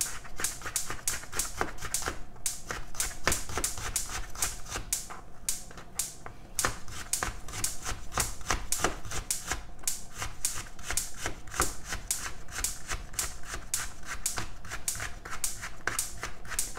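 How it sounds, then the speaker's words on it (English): A knife chops vegetables into julienne on a cutting board for veggie fried rice, rapid, steady, close-up taps repeating throughout with a few short pauses. "So you cut into julienne, beautiful julienne."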